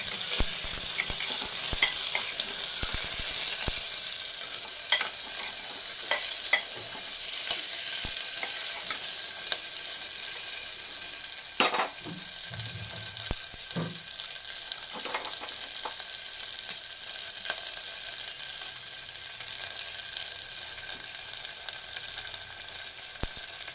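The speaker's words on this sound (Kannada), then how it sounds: "ಈರುಳ್ಳಿ ಹಾಕೊಂಡು ಚೆನ್ನಾಗಿ ಹುರಿಯೋದು." Onions and chillies frying in a pan for a peas palya, a soft continuous sizzle broken by irregular scraping and tapping from a spoon as they are stirred, fairly close and with no talking.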